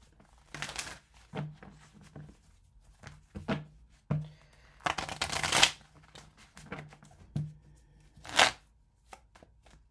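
Tarot cards being shuffled and handled in repeated bursts of riffling and slapping, close and crisp with short pauses between, no voices.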